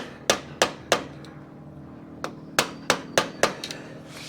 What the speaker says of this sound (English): I have to knock the lock washer down from the nut